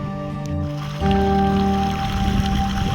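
Irrigation water flows steadily into a wheat field, a continuous rushing trickle with a tonal hum that grows slightly louder partway through.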